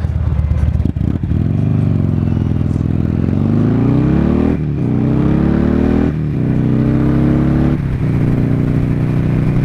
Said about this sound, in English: I don't know if you can pick up the wonderful noises that come out of this engine.